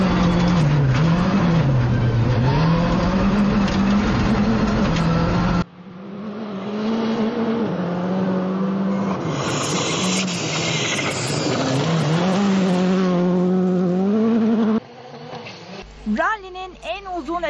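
Onboard an R5 rally car on a 15 km special stage of the Bodrum Rally, engine revving up and down through gear changes, with abrupt cuts between shots and someone talking over parts of it.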